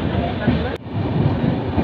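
Udaipur Intercity train pulling into Nasirabad railway station, heard as a steady, loud rolling rumble with a brief dip partway through and a faint murmur of voices mixed in.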